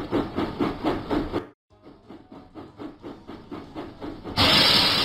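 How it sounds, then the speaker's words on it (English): Cartoon steam engine James from a Thomas & Friends video game, rhythmic chuffing puffs in a steady beat, broken by a brief silence and ending in a loud burst of steam hiss. "James puffed proudly into the diesel works."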